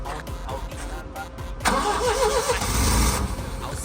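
A used diesel forklift engine cranks and catches, settling into a loud, rumbling idle up close, with voices talking faintly around it.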